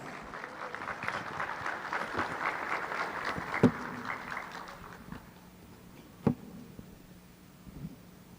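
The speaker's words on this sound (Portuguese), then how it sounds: "Uma salva de palmas." Modest audience applause at a talk welcoming a speaker to the stage, steady light clapping with a couple of louder knocks, moderately distant.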